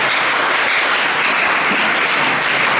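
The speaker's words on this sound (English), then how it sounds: "Please let's clap ourselves again." Steady, dense applause from an audience at a wedding ceremony, loud and continuous for a few seconds with no voices over it.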